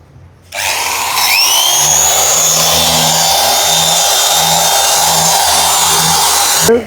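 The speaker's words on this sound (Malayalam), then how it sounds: "അപ്പോൾ ഇനി നമുക്ക് ഇതൊന്ന് പോളിഷ് ചെയ്ത് പോളിഷ് കാണിച്ചു കൊടുക്കാം ചേട്ടാ സ്റ്റാർട്ട് ചെയ്തോളൂ" A handheld polishing machine works a quartz artificial-marble kitchen countertop, spinning up after a brief quiet start into a loud, steady motor whine with a low hum that holds to the end.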